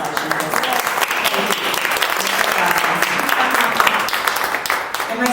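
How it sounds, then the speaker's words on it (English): A live audience applauds a translator at a talk, the clapping loud, dense and steady throughout with no voice rising above it. "Can you just give a round of applause for the translation?"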